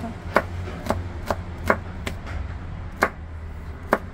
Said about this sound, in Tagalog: Chop ko lang to ng very fine ng ating garlic.